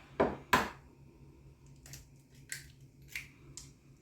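Two eggs cracked into a bowl for peanut butter chocolate chip cookie dough: two sharp, close taps in quick succession, followed by faint wet clicks and small shell knocks in a quiet kitchen.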